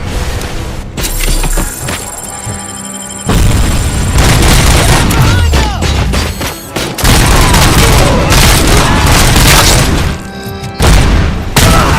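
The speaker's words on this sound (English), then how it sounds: "Enough with the grenades already." Grenade explosions in the video game RoboCop: Rogue City, loud heavy booms mixed with bursts of gunfire and rumbling debris, nearly continuous with brief gaps.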